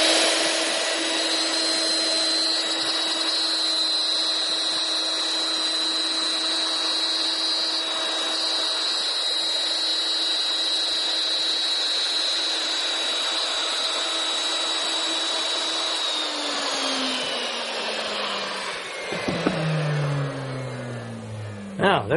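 A handheld wood router runs steadily at a loud, constant pitch while cutting out the center point left from routing a circle, then spins down near the end, its falling whine trailing off into quiet.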